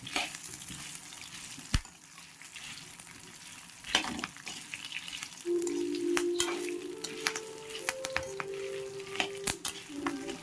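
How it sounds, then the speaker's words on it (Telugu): Drumstick leaves frying in a pan over a low flame, a soft steady sizzle with occasional light stirring clinks and scrapes, fairly quiet and close, no talking. "ఇలాగా మనం దీన్ని చిన్నగా ఫ్రై చేసేసుకున్నాము లో ఫ్లేమ్లోనే పెట్టుకొని చేసుకోండి"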